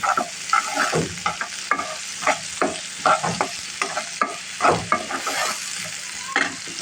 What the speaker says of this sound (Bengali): এখন বন্ধুরা ফ্রাই প্যানে তেল দিয়েছি সাথে পেঁয়াজ কুচি দিয়েছি